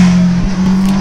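A sport-naked motorcycle engine from the 2020 class (CB650R, Triple RS, F900R, S1000R, MT-10) holds a loud, steady high-revving drone, needing high revs to reach peak power, close and continuous throughout without speech.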